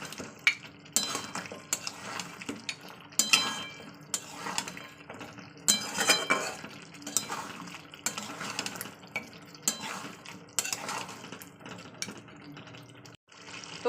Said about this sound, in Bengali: প্রথমে আলুটাকে দিয়ে আমি এই মশলার সঙ্গে আলুটাকে কষিয়ে দেবো।